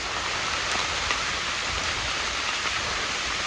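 Steady heavy monsoon rain in Konkan pours down in a dense, continuous hiss with no pauses, close and fairly loud throughout.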